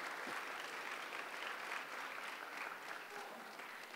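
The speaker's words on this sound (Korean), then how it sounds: "박수 한번 쳐주세요" Steady applause from an audience fills the whole stretch, dense and even, with a faint murmur of voices underneath.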